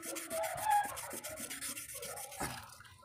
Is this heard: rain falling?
no